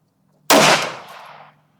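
A single sharp shot from a Smith & Wesson M&P 2.0 pistol in .22 Magnum firing Winchester 22 WMR 30-grain Varmint HV ammunition through a chronograph, a loud crack followed by a short fading echo.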